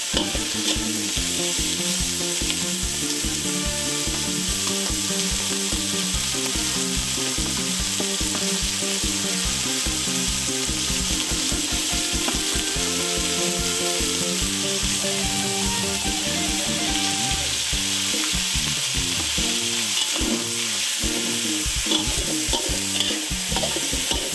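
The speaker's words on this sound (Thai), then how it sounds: "ต่อไปเราจะใส่กบลงไปผัดได้เลยค่ะ" Steady, close sizzling and crackling of frog meat stir-frying in hot oil with pounded garlic and chili, with scraping and stirring in the pan throughout and no talking.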